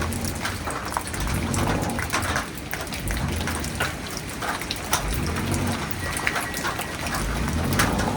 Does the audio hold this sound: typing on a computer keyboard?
no